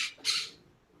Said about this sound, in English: Sorry, my bird's chirping.